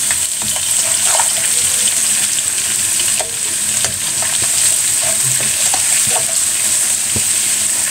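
Garlic and kefta fry in a pan with a steady, loud sizzle and crackle throughout, broken by occasional stirring scrapes.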